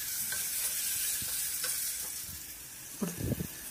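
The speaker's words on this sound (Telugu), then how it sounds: "ఇందాక మెరినేట్ చేసుకున్న చికెన్ ఇందులో వేసేసుకుందాం. వేసుకుని బాగా ఒకసారి కలుపుకుందాం." Marinated chicken frying with onions and garam masala sizzles continuously while a spoon stirs, giving a few scraping knocks and a louder clattering stir near the end.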